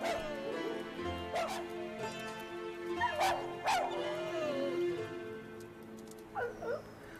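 Street dogs in Istanbul bark and yip repeatedly in an outdoor setting, with sharp, fairly close barks scattered among whimpers and a few fainter calls over steady background noise.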